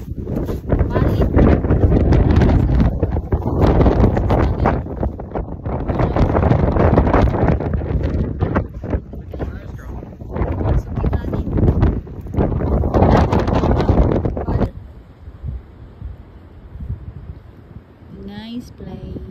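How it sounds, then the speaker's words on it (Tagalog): Strong wind gusts roar against the microphone at a scenic overlook on the Biltmore estate grounds, loud buffeting in long surges that drop away near the end to quieter outdoor ambience. "Grabe ka kusog sa hangin guys."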